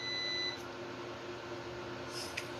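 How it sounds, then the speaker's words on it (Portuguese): Low-battery voltage alarm on a Must 3000W hybrid inverter: a faint, steady high electronic beep tone that sounds briefly at the start, with a soft chirp near the end over a constant background hum. "Ele vai ficar apitando pra gente, indicando que a tensão de bateria está baixa"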